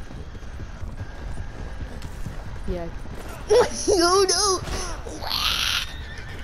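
A horse in a video game clip-clops along with a shrill neigh rising near the middle, while players talk and laugh excitedly over it.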